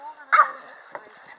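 A rush of small dogs piling out of an opened car door toward a jetty trail, with a sharp yip-like burst near the start and a second short bark later, over a low busy background.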